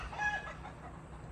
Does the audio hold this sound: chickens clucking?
yes